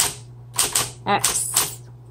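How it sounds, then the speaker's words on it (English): A 1960s Smith Corona Coronet Electric 12 typewriter types a short burst of about half a dozen crisp, close key strikes in an uneven rhythm, with a brief vocal sound in the middle. "Excellent typewriter."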